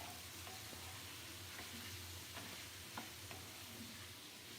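Chopped vegetables stirred into cooked chicken in a pan for chicken noodles, a faint, steady sizzle under a few soft scrapes and taps from the spoon.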